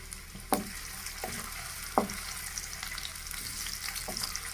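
Onions sizzle and fry in hot oil in a kadai, a steady close crackle with a few sharper stirring knocks and scrapes, no talking.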